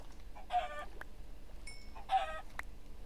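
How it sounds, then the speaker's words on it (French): Chickens clucking in two short bursts, fairly faint and close, with brief higher calls between them and no talk. "il y a plein de poulets dans le coin"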